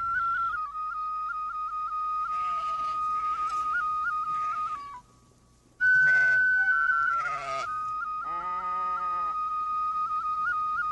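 Several sheep bleat in turn, fairly close and loud, over a steady high whistling tone from a film's soundtrack, with a brief quiet gap midway before the bleating resumes.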